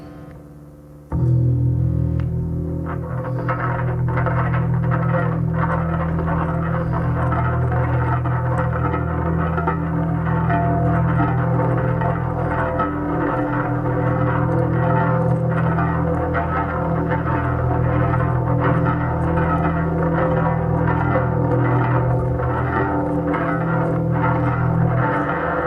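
Heavily distorted electric sound, dense and droning, with a freeze effect holding a sustained wash of tone; loud and continuous after a brief quiet start, no voices.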